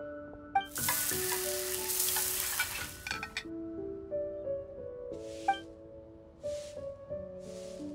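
Cooking sizzle in the video game Genshin Impact, a bright frying hiss over chiming music tones, followed by several short, quieter bursts of sizzle spaced a second or so apart.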